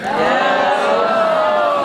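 A large convention crowd at Dragon Con cheers and whoops in a dense, sustained roar, loud and continuous throughout with no clear individual talk.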